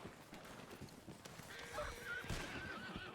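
Horses neigh and whinny in a Western video game, with hooves clip-clopping over continuous background game noise and occasional speech.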